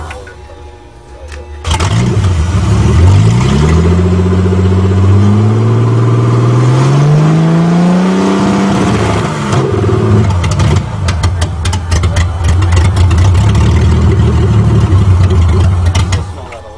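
A Toyota Cressida engine with a fuel return problem cranks and catches, then revs up and down in rising and falling sweeps before settling into a steady idle, loud and close throughout.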